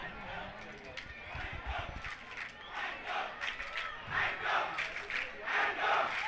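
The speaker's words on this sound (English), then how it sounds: "both crowds cheering up their teams" Crowds of both sides cheering on their football teams, a broad roaring chant from far off that swells and falls, with shouting voices rising over it toward the end.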